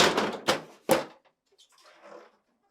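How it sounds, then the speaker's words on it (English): A GE freezer drawer pulled forward and tilted up and out, producing a few quick plastic scrapes and clunks up close, then quieter rattling as it comes free. "Then pull the upper drawer forward and tilt it up and out."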